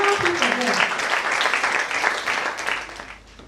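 An audience at a Musanze workshop claps steadily for people being given awards, with a voice speaking over the dense applause before it thins out near the end.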